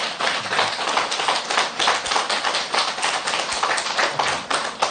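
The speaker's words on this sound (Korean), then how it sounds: "박수 쳐야지. 이제." Steady, dense clapping from a group gathered for a Buddhist dharma talk at a temple, loud and continuous throughout with individual hand claps standing out, no voices over it.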